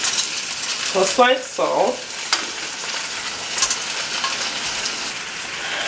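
Fish lowered into a hot pot for Jamaican brown stew fish, giving a steady frying sizzle that runs throughout, with a brief voice speaking near the start.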